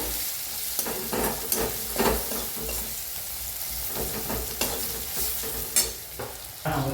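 Ridge gourd roasting in a pan with turmeric and red chili powder, a soft continuous sizzle broken by repeated scraping strokes of a spatula stirring close by, with no talking.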